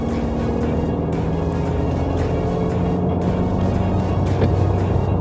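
A Mitsubishi Triton pickup, a 2.4 Plus Ultra, drives with the manual gear mode in use. Its engine gives a steady, loud, close drone with road rumble throughout and no clear rev peaks or gaps.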